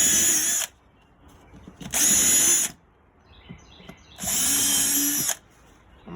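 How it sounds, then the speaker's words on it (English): A power drill bores pilot holes into a wooden planter board in three loud bursts of whirring, with quiet gaps and light handling noise between them. "Put a little pilot hole in there."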